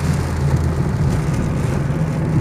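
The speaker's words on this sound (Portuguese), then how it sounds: "olha do céu, a chuva aumentou muito" Heavy rain pouring outside a home during a storm, a steady dense hiss with a low rumbling undertone, continuous and fairly close, with no talk.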